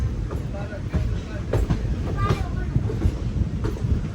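A Vijayapura–Mangaluru special train rolls into Mangaluru Central station, a steady low rumble with rhythmic wheel clacks and occasional squeals, close by and under a voice talking.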